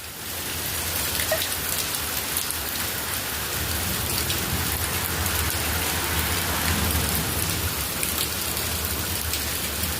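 Heavy rain pours steadily during a flooding rainstorm, a dense continuous hiss of drops hitting surfaces with faint rumbles of thunder, loud and unbroken with no voices.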